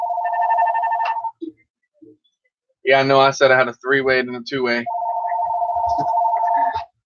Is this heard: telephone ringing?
yes